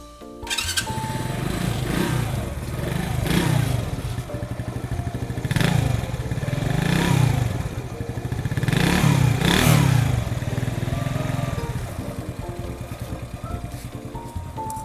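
A 2023 Ryuka Classic FI 110 motorcycle with about 3,000 km on it starts up and settles into a steady idle. The engine note is close and even, with no talking over it.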